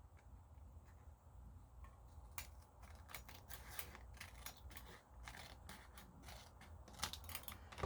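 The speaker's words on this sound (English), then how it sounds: "So we're just going to cut the edge." Scissors snip along the edge of a paper envelope during journal binding, a run of short crisp cuts in quick irregular succession, close and fairly quiet over low background hum.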